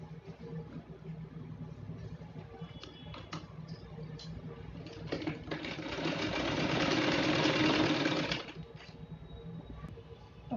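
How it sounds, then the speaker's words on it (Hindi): A sewing machine stitching a 1-inch piping strip onto fabric: soft handling and ticking noises, then a steady whirring run of about three seconds before it stops. "इसको हम रखेंगे नीचे और यहाँ से लगाएंगे सिलाई"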